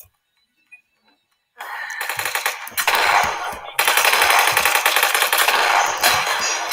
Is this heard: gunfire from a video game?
yes